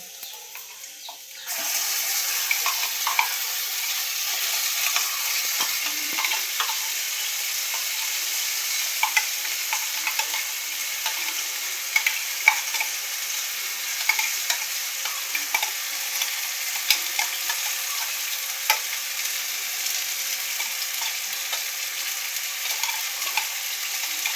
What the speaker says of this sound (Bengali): তো এবার আমি মশলাটা কষিয়ে নেব।